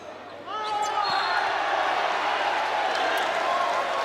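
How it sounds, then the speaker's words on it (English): Crowd noise at a New Zealand NBL basketball game between the Otago Nuggets and Nelson Giants, a steady loud arena roar that swells after half a second and holds, with a few faint whistles and shouts on top. "Listen to the crowd."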